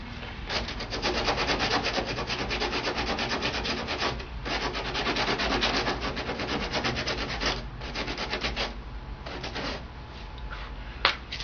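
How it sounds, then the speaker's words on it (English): Body filler on the rear bodywork of a Lotus Elise being hand-sanded with coarse grit sandpaper, a steady close scratchy rubbing in continuous back-and-forth strokes with brief pauses. "I'm going to try this 40 grit sandpaper, 80 grit sandpaper now, to make it a little more smoother and finer"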